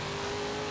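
A Dodge Charger muscle car in Forza Horizon 3 revs loudly, a brief continuous engine roar heard alone.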